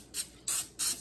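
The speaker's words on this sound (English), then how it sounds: "spray this a little bit because I don't like my food to stick." Cooking oil spray hits a pan before potatoes and chicken sausage are cooked: three short, crisp hissing bursts with brief pauses between them, close and clear.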